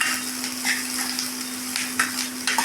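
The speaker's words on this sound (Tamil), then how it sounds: "இந்த ஸ்டேஜ் வரல பாவக்காய் போட்டுடலாங்க" Sliced onions and bitter gourd frying in a pan, a loud continuous sizzle close up with periodic spatula scrapes and stirring strokes, a steady hum underneath, no talking.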